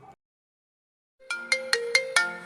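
A phone ringtone chimes five quick bright tones in a rising pattern after a brief silence, close and clear with no talk over it.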